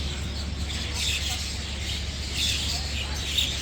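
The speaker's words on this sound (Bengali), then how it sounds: "প্রত্যেকটা গাছেই প্রচুর পরিমাণ পাখিদের কিচিরমিচির শব্দ আপনারা হয়তো শুনতে পাচ্ছেন।" A dense chorus of many birds chirps continuously from trees at a bus terminal, a steady high twittering heard from a moderate distance.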